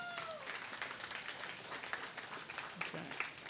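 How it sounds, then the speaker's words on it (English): An audience at a talk on Tolkien's canon and fan fiction gives a brief, faint round of applause for the speaker. The clapping is scattered and distant, lasting a few seconds. "Round of applause for Danny Tallon."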